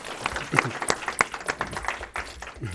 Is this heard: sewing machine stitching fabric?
no